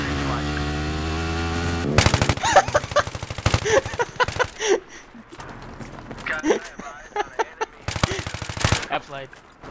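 Video game gunfire during a capture-the-flag match, rapid bursts of automatic shots in quick repeated volleys, loud and close, with excited voices talking over the action.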